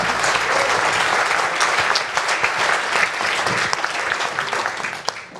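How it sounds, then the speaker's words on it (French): An audience at an awards ceremony applauds warmly, a dense, sustained wash of clapping from many hands that thins slightly toward the end, with no voices over it. "Je vous demande d'applaudir très chaleureusement ces 4 grands professionnels du Conseil."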